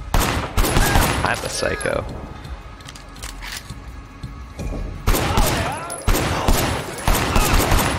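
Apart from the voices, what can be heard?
gunfire in the video game Sleeping Dogs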